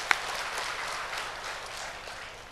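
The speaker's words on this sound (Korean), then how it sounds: "하나님께 영광의 박수 올려드리겠습니다" A church congregation bursts into applause, a dense, steady wash of clapping that holds for a couple of seconds and slowly tapers, with no voices over it.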